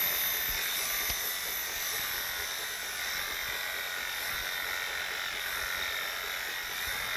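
A Wahl Bravura lithium-ion clipper runs steadily with a constant buzzing motor whine, close and even, with no voices.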